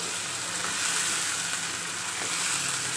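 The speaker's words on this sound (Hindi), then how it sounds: "ये देखिए चिकन हमारा जो है वो फ्राई हो गया है" Steady, dense sizzling of chicken frying in a hot pan, a continuous crackling hiss with no voices.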